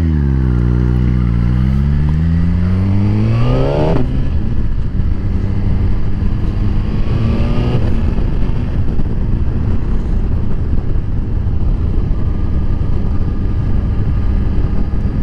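A Suzuki GSX-R1000R sport motorcycle on a country ride revs hard through the gears with rising engine whine, then settles into a loud steady cruising drone under heavy wind rush, close and continuous.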